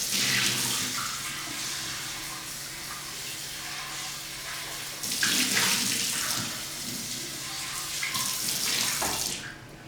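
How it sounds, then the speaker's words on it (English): Running water rinses out the inside of an Instant Pot's inner pot, a steady hissing splash that surges louder partway through. "I'm just going to rinse it out with some water."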